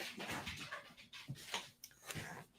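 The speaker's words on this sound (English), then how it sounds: "Let me let my dog out." A dog indoors pants and whimpers, wanting to be let outside: quiet, breathy huffs and soft whines in short irregular bursts, with no talking.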